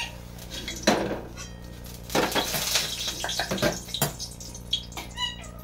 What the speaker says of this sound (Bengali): গ্যাসটায় জল বসিয়ে দিলাম।